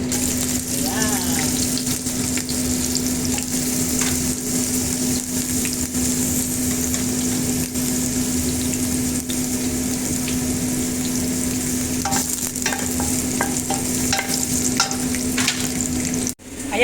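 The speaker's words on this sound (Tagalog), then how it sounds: "nag-start na po akong prituhin ito" Food sizzles and crackles steadily in a hot pan during Filipino home cooking, loud and close, a continuous frying hiss running unbroken for about sixteen seconds before cutting off abruptly.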